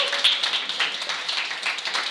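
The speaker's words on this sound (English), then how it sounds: "we should have a loud applause for Michelle for organizing the event" Audience at a startup-support panel discussion applauds the event organizer: a steady, dense patter of clapping from a room of people that holds at an even level for about two seconds.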